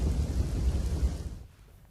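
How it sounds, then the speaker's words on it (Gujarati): Heavy monsoon rain pours down in Dwarka, Gujarat, making a dense, steady roar that thins out abruptly near the end. "યાત્રાધામ દ્વારકામાં વરસાદ છે તે મહેરની બદલે કહેર વરસાવી રહ્યો છે"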